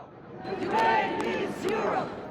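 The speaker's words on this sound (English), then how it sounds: "The crowds converge outside the symbol of Europe's unity" A crowd of demonstrators rallies in support of Ukraine outside the European Parliament, a loud, continuous mass of voices with rising shouts and chanting that swells and holds steady.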